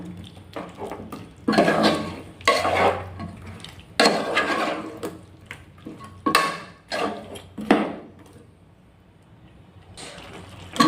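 A spoon scrapes and clanks around a pot of chicken pulao mixture being stirred, in repeated bursts of metal scraping with short pauses between them, close and fairly loud.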